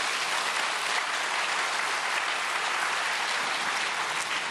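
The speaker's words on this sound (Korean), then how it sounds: "우리 목사님 박수로 환영하시겠습니다" Congregation at a church prayer meeting applauding to welcome the pastor, a dense, even wash of many hands clapping that is sustained and fairly loud throughout.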